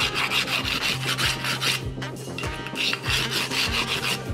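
Rhythmic rasping strokes of an abrasive tool rubbing a stone ball finial smooth, a close, steady back-and-forth scraping with a brief pause midway and no talk.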